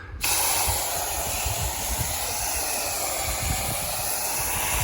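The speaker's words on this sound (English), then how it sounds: "I'm gonna go ahead and start foaming." A soap foam cannon sprays a car with a steady, loud, continuous hiss that starts abruptly and runs unbroken, with no talking.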